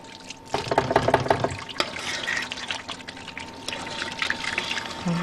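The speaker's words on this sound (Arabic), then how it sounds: "كون بهالوقت غسلت ايدي." Tap water runs and splashes steadily as hands are washed at a kitchen sink on a morning cooking show, with clattering and brief background voices mixed in.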